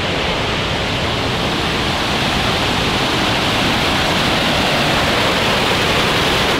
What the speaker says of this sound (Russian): шум реки вообще перебивает все.